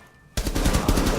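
Rainbow Six Siege gunfire during a headshot: after a quiet moment, a sudden close burst of rapid automatic shots fires off in a fast, even rhythm that lasts to the end.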